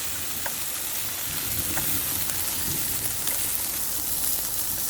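Meat and chicken sizzle and crackle steadily on a Thai moo kratha charcoal grill pan, a close, continuous frying hiss with occasional sharper pops.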